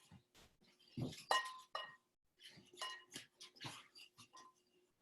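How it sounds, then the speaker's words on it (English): A spatula stirs a baking mixture in a bowl, giving light, irregular scrapes and glassy clinks against the side, close by and fairly quiet. "So now you can go ahead and stir that together."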